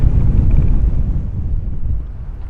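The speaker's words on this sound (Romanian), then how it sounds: "Vânt mai mare" Strong wind buffets the microphone with a deep, rumbling roar, steady and loud, with a faint wash of turquoise sea water in the background at La Maddalena.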